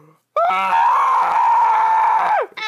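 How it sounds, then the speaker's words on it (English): A video game character lets out a loud, sustained scream lasting about two seconds, steady in pitch before trailing off abruptly, heard alone. "are you screaming?"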